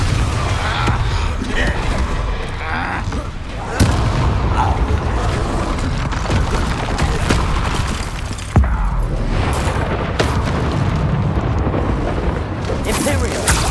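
Repeated fiery blasts of the Confringo spell in Hogwarts Legacy gameplay, loud booming explosions and crackling bursts going off one after another over a rumbling game soundscape.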